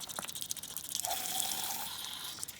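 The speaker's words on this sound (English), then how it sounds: "And I like to add just a little bit of water." Water pours into a jar of wet seeds mixed with their juice and gel, a short trickle swelling into a steady, close gushing fill that runs for about a second and a half before tapering off.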